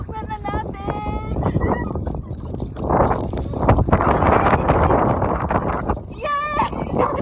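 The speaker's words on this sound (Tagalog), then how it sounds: "Sobrang lakas ng hangin, bongga." Loud, gusty sandstorm wind near Matruh roars against the microphone while people talk and exclaim nearby, with a few high-pitched voices over the rushing noise.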